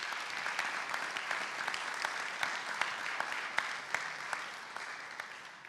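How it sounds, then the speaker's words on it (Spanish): Audience applause at a public policy forum on economic complexity, a steady patter of many hands clapping at moderate distance that fades slightly near the end. "Un fuerte aplauso para él, por favor."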